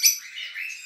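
Caged lovebirds and budgerigars at a breeding setup let out a sharp, high chirp followed by thinner trailing twitters, close and fairly loud, with no speech.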